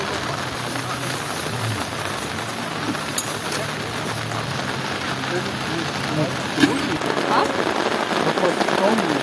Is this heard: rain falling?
yes